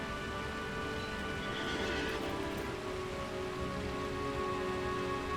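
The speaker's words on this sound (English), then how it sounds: "It is actually still raining outside." Steady rain hisses outdoors as an even, constant patter with no breaks, moderately loud and with no voices over it.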